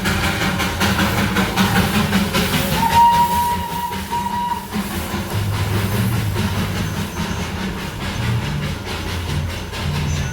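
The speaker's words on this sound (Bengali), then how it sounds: "অনেক দিন পর টয় ট্রেন দেখতে পেলাম।" A Darjeeling toy train goes by with a steady rail rumble and a sustained whistle blast midway, then continued rolling clatter, fairly close and loud with no talk.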